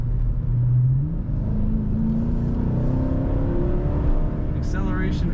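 A 2006 Dodge Charger R/T with white paint accelerating hard, its engine note climbing steadily through the gears in a loud, close, continuous roar with a brief chirp near the end.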